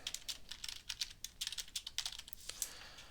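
Keys on a computer keyboard clatter in quick, uneven bursts as a commit message is typed, close and moderately loud with no voices.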